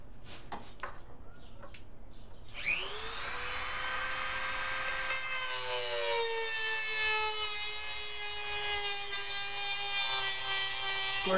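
A Dremel rotary tool spins up to a loud, steady high-pitched whine as it cuts into a DIY fishing rod holder for a float tube, after a few light handling knocks, continuing close and unbroken.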